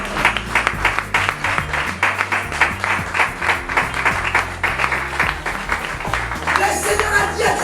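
A church congregation claps in a steady, rhythmic beat during a worship service, loud and close. Voices rise under the clapping and swell toward the end.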